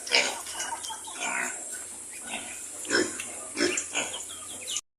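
Pigs raised on a small farm grunt and snort close by in short bursts, some louder than others, with no talk.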